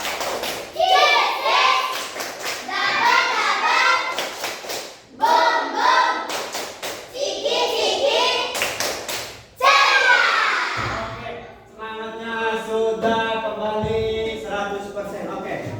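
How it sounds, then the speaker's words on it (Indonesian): A school class performing the tepuk ceria clapping routine, chanted words punctuated by sharp unison claps in a rhythmic pattern, followed by a sustained sung or chanted tone near the end. "Kita akan melakukan tepuk ceria."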